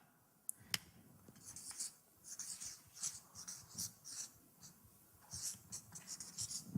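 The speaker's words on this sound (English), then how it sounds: "I'll write it up here." A marker squeaks and scratches across a board in short, quiet strokes and bursts, near and alone, with a couple of sharp taps as it starts.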